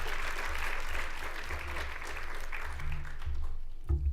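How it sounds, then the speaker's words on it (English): An inclusive education symposium audience applauds a leader named Gina with a fairly soft, continuous wash of clapping over a low room hum, fading slightly toward the end. "So round of applause for Gina for today."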